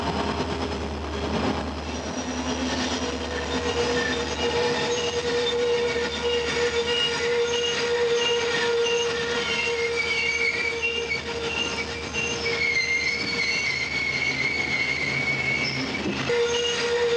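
Southern Railway freight train rolling through a sharp 11-degree curve on a mountain grade under dynamic braking, its wheels squealing steadily with high, shifting tones over a constant low rumble, heard up close and without any talk.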